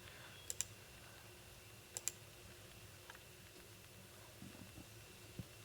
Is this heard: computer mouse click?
yes